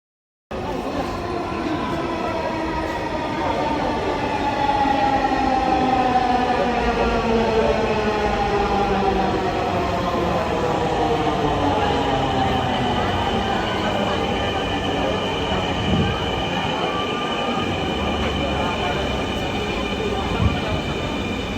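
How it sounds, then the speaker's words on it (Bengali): A Dhaka metro rail train at a metro station, heard as a steady loud rumble with rising and falling electric motor whine that persists for the whole stretch, no voices over it. "ফাইনালি আমরা মেট্রো স্টেশনে চলে এসেছি।"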